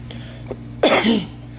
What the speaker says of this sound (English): Coughed.